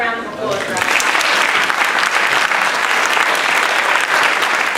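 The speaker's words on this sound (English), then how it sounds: "How about a round of applause for us?" Steady, dense applause from an audience at a school board of education meeting, loud and continuous throughout with no break.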